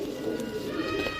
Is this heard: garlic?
no